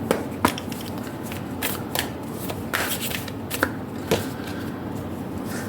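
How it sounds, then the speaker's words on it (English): Oracle cards shuffled in the hands, a continuous papery riffling with sharper snaps as cards are pulled from the deck, close and steady with no talk. "We're going to pull out your oracle cards as well. I'm just taking out 1 card each."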